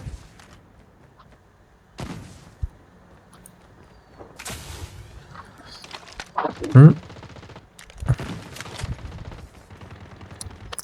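Bursts of gunfire from the mobile shooter game Call of Duty Mobile, with scattered single shots and a denser volley near the end over a quiet game background, fairly close and sharp.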